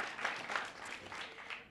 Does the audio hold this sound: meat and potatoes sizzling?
no